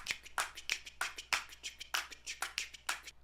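Crisp finger snaps tap out a clave-like pattern in an a cappella arrangement, about a dozen close, dry hits in a syncopated repeating rhythm with nothing else underneath.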